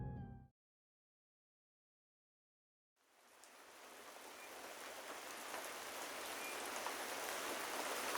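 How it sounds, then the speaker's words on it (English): Rain patters in an indie video game, arriving after a brief sound and a few seconds of silence, then settling into a steady, broad hiss of falling drops that slowly grows louder. "The rain pattered outside"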